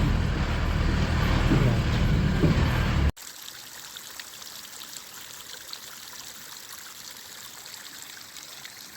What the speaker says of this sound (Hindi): ये जगह जगह से पानी निकलता है और ऐसे पीने के काम आता है।